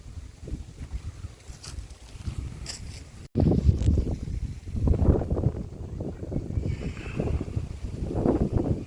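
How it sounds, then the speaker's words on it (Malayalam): A breeze gusts in uneven waves at a fish farm resort, rumbling against the microphone, rising and easing over several seconds outdoors. "നല്ല കാറ്റാണ് ഇളം കാറ്റുകൾ ഇങ്ങനെ വീശി വീശി"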